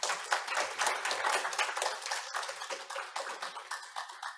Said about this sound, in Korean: 다시 한번 무대 위 좌장 발표자 토론자께 큰 박수 부탁드립니다.